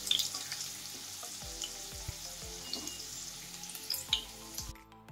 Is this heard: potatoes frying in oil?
yes